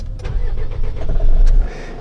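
A camper van's engine cranks and starts while parked, a loud, close low rumble building over about two seconds.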